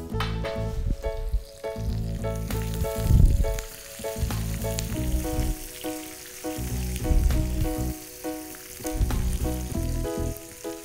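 A whole onion fries in a pan for makhani, a steady close sizzle swelling and easing as it is stirred, with faint clinks on top.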